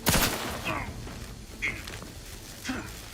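A gun fires in The Outer Worlds 2, opening with a loud rapid burst and followed by a few sharper isolated shots spaced about a second apart.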